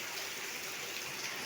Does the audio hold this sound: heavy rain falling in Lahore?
yes